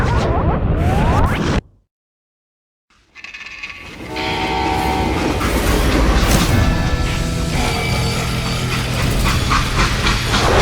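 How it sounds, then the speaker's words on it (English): A freight train rolls along the rails in the Western shooter Call of Juarez: Gunslinger, a loud, steady, heavy rumble with ringing metallic tones. It follows a brief burst of noise and a moment of near silence. "They hopped a freight train"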